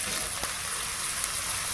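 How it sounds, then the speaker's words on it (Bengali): Chopped carrots sizzle in hot mustard oil with ground turmeric, a steady, fairly quiet broadband frying hiss that holds evenly throughout with one or two faint pops, no voices present. "তেল ভালো মতন গরম হয়ে গেলে দিলাম কুচনো গাজর।"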